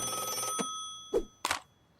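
A cartoon hotline phone rings in two quick, bright bursts, loud and close, over a soft sustained musical tone that fades out.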